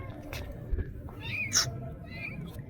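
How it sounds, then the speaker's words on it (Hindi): Street cats in Iran meow a few times, short mid-pitched calls heard nearby over outdoor street noise and a faint voice. "तो भाई मुझे यहाँ बिल्लियाँ मिल गई"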